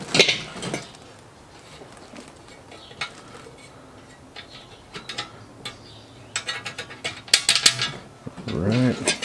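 Hand tightening bolts while assembling a Char-Griller kettle grill, with scattered metallic clicks, light clanks and ratcheting rattles of parts, quiet and intermittent, building to a louder clatter at the end.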